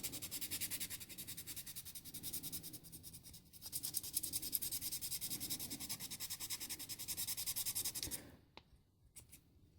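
Continuous rasping of sandpaper rubbed back and forth smoothing a model locomotive kit, close and steady, before stopping abruptly near the end.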